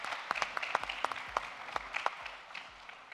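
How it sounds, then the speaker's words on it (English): A modest audience applauds contest participants with scattered, uneven claps that rise and fall in loose bursts, close and fairly light. "big round of applause for all the participants"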